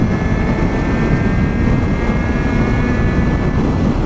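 A Suzuki Bandit 650cc motorcycle engine drones in a steady, loud, unbroken roar with a faint whining tone riding on top, heard close with no speech.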